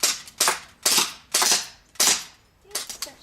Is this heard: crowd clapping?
no